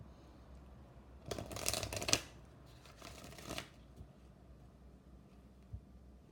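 Angel crystal oracle cards being shuffled by hand, two quick riffling bursts close up with brief soft handling between them in a quiet room.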